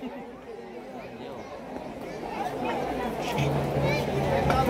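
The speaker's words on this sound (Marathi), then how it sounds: "भयंकर गर्दी आहे बघा।" A dense crowd chatters at a village palanquin darshan in Sonke for Balumama, with many overlapping voices in a steady babble that grows louder toward the end.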